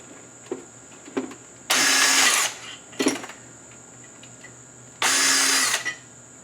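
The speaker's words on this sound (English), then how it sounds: "So I'm pulling the top studs out. I loosened them all up by hand. Now I'm using my 3/8 drive." A 3/8-inch drive power tool backs the top studs out of an engine in a garage. Two sustained, loud whirring bursts are separated by short blips and clicks, heard up close with no talking.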